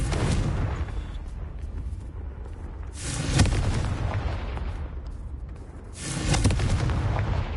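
Repeated Confringo explosive spell blasts boom in Hogwarts Legacy, each a loud, broad burst, at roughly three-second intervals, trailing into rumbling decay over a continuous noisy game backdrop.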